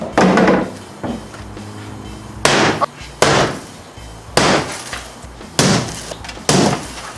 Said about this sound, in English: The only logical thing to do now is smash this with a hammer.